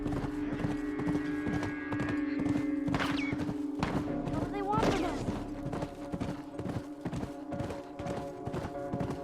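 Horse hooves gallop in a steady clip-clop rhythm in The Last of Us Remastered, with a neigh and bursts of game action over music, while a voice speaks briefly.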